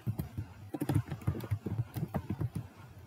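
A name is typed on a computer keyboard during a basic computer skills test, with a close, quiet run of rapid, irregular key clicks and taps, alone without talk.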